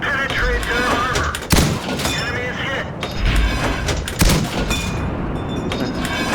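A T67 tank gun fires in a video game battle. Loud booming shots stand out against continuous battle noise and engine rumble, with a voice talking over it.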